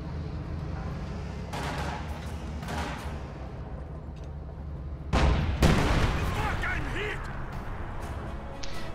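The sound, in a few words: artillery fire on HQ in strategy video game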